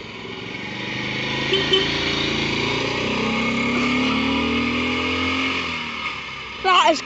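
Small Hillman bubble car passing by at a car meet, its buzzy little engine droning steadily and fairly close, with the pitch shifting as it goes by, and a short clatter at the end.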